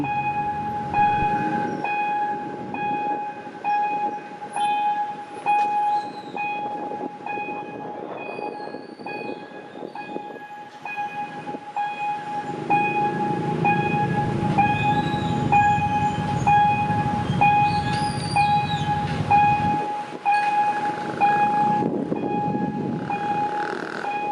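Two freight trains, one with a GEK locomotive, passing a level crossing in Thailand: a constant ringing crossing alarm sounds over a heavy, rolling rumble of wagons, with occasional high wheel squeals as the trains go by.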